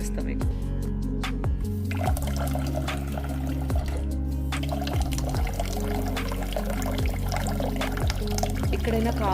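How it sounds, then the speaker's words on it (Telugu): Water pours from a household tap during low water pressure, a steady running splash heard close by under a voice talking throughout. "ఇక్కడైనా కాస్త నీళ్ళు వస్తున్నాయి"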